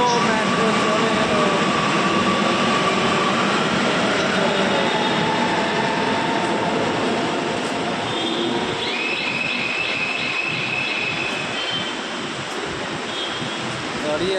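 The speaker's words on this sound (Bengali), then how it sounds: "চলে গেল মেট্রো, চলে গেল।" A Kochi Metro train leaving the station, a loud broad rushing rumble that slowly eases off, with a brief high tone partway through and some voices nearby.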